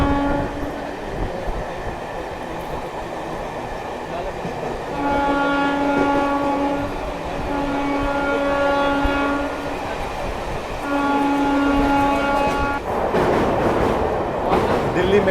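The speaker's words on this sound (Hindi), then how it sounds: "क्या ट्रैक साउंड आ रहा है" A passenger train on an Indian line between Shamli and Delhi rumbles along the track under a steady loud rolling roar, and a long horn sounds in repeated blasts over it. Distant voices can be heard faintly.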